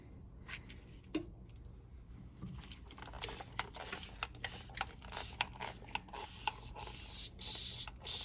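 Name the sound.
spraying peroxide solution during comic book restoration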